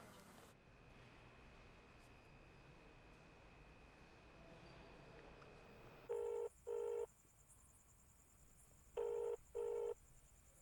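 A phone ringback tone sounds in two pairs of short electronic bursts, repeating unanswered over a low steady background hum.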